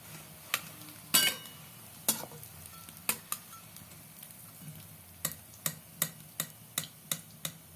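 Bengali palm fritters (taler bora) made with semolina frying in hot oil, a steady low sizzle under a series of sharp, close metallic clicks and taps spaced roughly every half second, with no talking.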